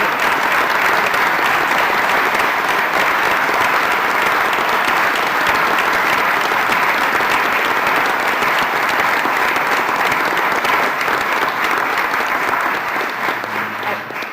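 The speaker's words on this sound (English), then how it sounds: "I think she deserves a second round of applause" Sustained, loud applause from the audience at a university system Board of Regents meeting, dense steady clapping filling the room throughout and tapering slightly at the very end.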